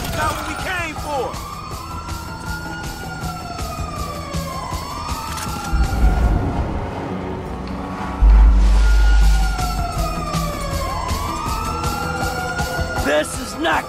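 An ambulance siren in Grand Theft Auto V, loud wailing sweeps rising and falling repeatedly amid gunfire-like bangs, vehicle rumble and shouted voices.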